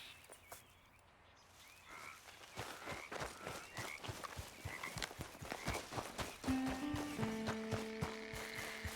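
Horse in Red Dead Redemption 2 with steady, rhythmic hoof clip-clops close by, joined late by sustained musical tones.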